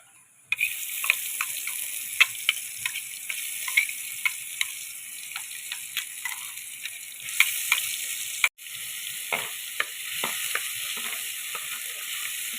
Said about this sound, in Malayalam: ഉലുവ ഒന്ന് മൂത്ത് വരെ ഇട്ട് അപ്പോൾ ഇനി നമ്മുടെ അരപ്പ് ചേർത്ത് കൊടുക്കുക